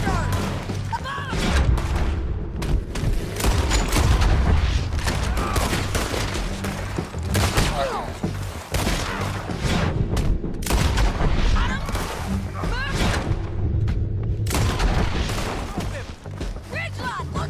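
Dense, continuous gunfire from a Red Dead Redemption 2 shootout, rapid overlapping shots and booms at a steady loud level for the full length, with voices shouting over the battle.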